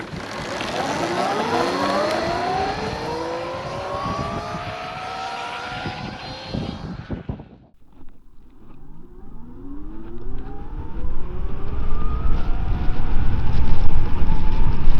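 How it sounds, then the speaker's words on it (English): A VMoto Stash electric motorcycle accelerates with a loud, close motor whine that climbs steadily in pitch, drops off briefly, then rises again in a second sweep through the gears under heavy wind rush. "I'm going to leave it in 3, see what the acceleration's like, and see if this boost does anything."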